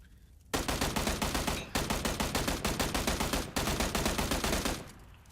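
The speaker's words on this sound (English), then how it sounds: "He's just shooting at the fucking ground." Gunfire in a video game rattles in three long, fast automatic bursts separated by brief pauses, loud and continuous, with no one talking over it.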